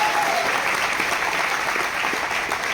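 Audience applause for a speaker at an RCM business event in Mumbai, steady and dense throughout, a full hall of clapping hands without voices breaking through.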